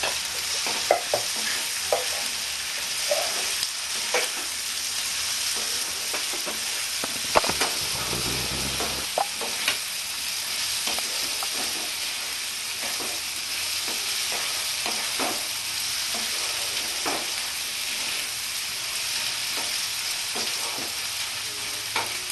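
One large chopped onion fries in a pan for a Bengali-style kochur loti chingri, with a steady hiss of sizzling throughout and frequent scraping and clinking as it is stirred.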